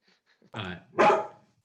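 A pet dog barks indoors during an agricultural finance panel, two loud, close barks in quick succession with a brief pause between them and no talk over them.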